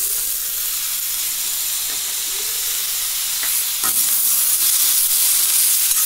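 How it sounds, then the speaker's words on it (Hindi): Chopped tomatoes tipped into a hot pan of oil with red chilli powder, salt and spices for a quick paneer sabzi, giving a loud steady sizzle and hiss with a few stirring clinks. "अब ऐड करेंगे टमाटर।"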